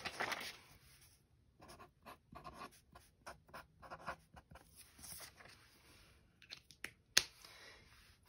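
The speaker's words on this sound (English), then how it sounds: "Let's write it on our paper." Pencil writing fractions on paper during a Montessori elementary math lesson, soft scratchy strokes coming in short irregular bursts with pauses between, close and quiet.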